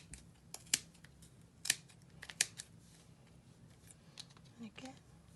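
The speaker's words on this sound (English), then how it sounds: "So now what I do is just snip through the middle." Scissors snip through knitted yarn close up, three sharp distinct cuts in the first half, then softer handling noises with no speech.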